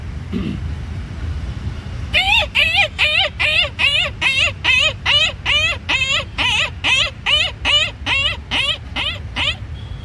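A man imitates a puppy with a quick series of high, rhythmic yelping whines, about a dozen in a row, close and loud.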